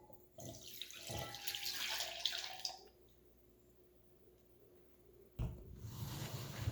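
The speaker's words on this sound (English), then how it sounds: "we have 250 milliliters of vinegar right here, which I will pour into this." Vinegar, 250 milliliters, poured into a container, a steady liquid splash and trickle that runs for a few seconds, pauses into quiet, then resumes loudly near the end.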